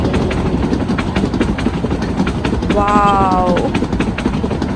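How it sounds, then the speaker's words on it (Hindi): A train rolls past close by with a steady rumbling clatter of wheels, a rising horn-like tone briefly sounding midway, while a person exclaims over the noise. "ट्रेन आ गई है, चलो देखिए, आप भी मेरे साथ ट्रेन देखिए।"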